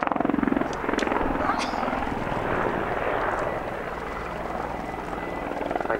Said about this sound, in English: these helicopters have been able, by virtue of being such an outstanding type, to remain relevant